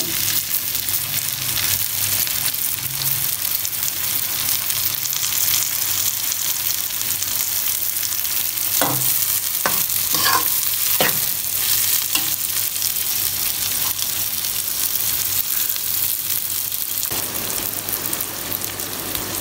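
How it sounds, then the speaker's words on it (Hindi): Onions sizzle steadily in hot oil for chicken biryani, cooking toward light brown, with a few sharper scrapes of stirring near the middle; a constant broadband frying hiss fills the whole stretch with no talking. "प्याज हमारे ब्राउन हो रहे हैं"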